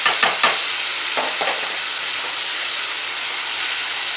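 Tamarind extract poured into a hot pan for temple-style puliyodharai gives a loud, steady hiss and sizzle, with a few sharp crackles at the start that settle into a continuous frying sound.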